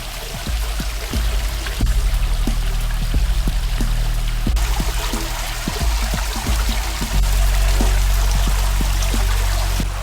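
Water splashes and pours steadily nearby, a constant rushing flow with small irregular drips and plops on top.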